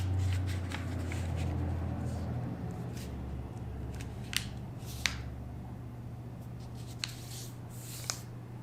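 Paper being folded into an origami boat gives soft, close crinkles and a few light taps and creases over a steady low background hum.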